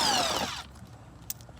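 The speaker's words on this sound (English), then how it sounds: "I just got my drill with my socket and we just gonna drop this" Cordless power drill fitted with a socket spinning off a bolt under the strut brace of an Infiniti G37 during an oil change, one high whining burst for about half a second before it cuts out, followed by faint clinks.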